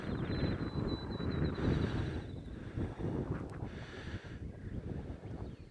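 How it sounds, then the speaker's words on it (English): Wind blows in steady, roaring gusts straight into the microphone. The buffeting stays fairly loud and continuous, with no voices. "It's probably really windy on that thing."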